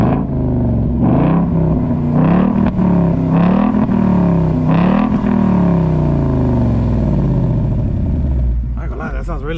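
A new car's engine revs repeatedly in loud rising-and-falling bursts, about four strong pulls close by with a steady idle between them, ending in a lower drone.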